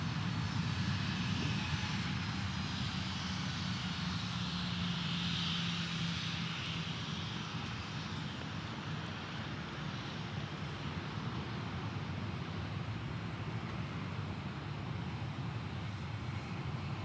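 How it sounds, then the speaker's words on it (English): A plane takes off at max power from Dallas Love Field, a steady, loud engine roar that holds evenly for the whole stretch with no voices. "here comes our max takeoff"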